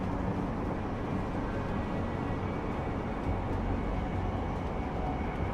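Steady rumbling train ride in the video game Deus Ex, a continuous low rolling drone with broadband noise that holds at an even level throughout, with no talk over it.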